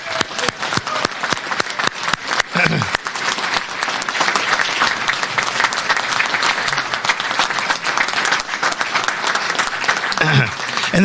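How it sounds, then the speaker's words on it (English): Loud, sustained audience applause fills a Hall of Fame induction ceremony, dense clapping that rises sharply and carries on steadily for several seconds. "So let's give him a round of applause."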